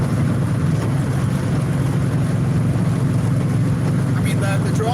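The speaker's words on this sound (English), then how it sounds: "the drone from the engine is pretty loud" Steady low engine drone fills the cabin of a 1969 Dodge Dart GTS driving with the windows up through agave fields in Jalisco, Mexico, a constant loud rumble throughout with no voices.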